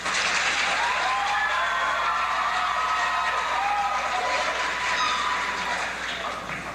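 During a 1990 high school stage production of the musical The Mystery of Edwin Drood, an audience applauds for Miss Rosa Budd with a sustained, dense wash of clapping that tapers slightly at the end.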